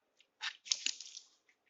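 A close, wet crunch of teeth biting into a whole lemon, peel and all: a few quick crushing bursts clustered together, then a faint trailing chew, heard alone without talk.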